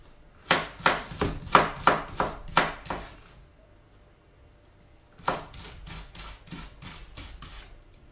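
A knife chops ginger into julienne strips on a board: a quick run of about eight crisp, evenly spaced strokes, a pause, then a second, softer and faster series of cuts.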